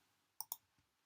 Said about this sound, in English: If I click on this